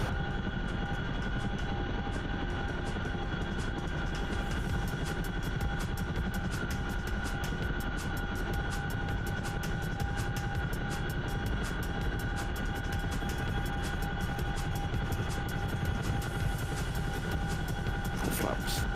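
An aircraft engine roars at full throttle in the DCS World flight game, a loud, unbroken droning hum with a rapid rhythmic beating throughout.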